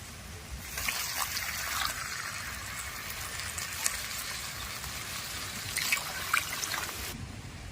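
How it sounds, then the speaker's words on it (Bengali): Water is poured into a pan of semai with cashews and raisins, a soft, steady trickling wash that lasts several seconds at low volume before stopping abruptly, with no voices. "এবার দিয়ে দেবো জল"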